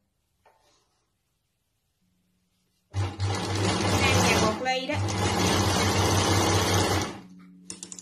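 A sewing machine stitches a trouser pocket up close, a steady rapid mechanical whir running for about four seconds with a brief pause midway, after a short spoken word.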